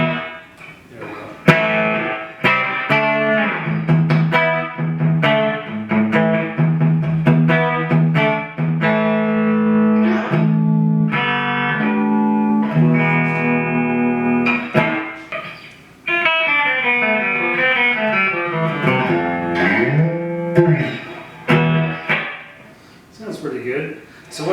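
A 1989 Ibanez RG550 electric guitar played clean with effects and reverb off, ringing picked notes and chords in a steady run close up, with a short break partway and some sliding phrases toward the end.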